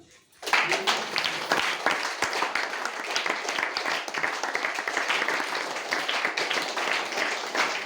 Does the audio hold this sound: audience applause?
yes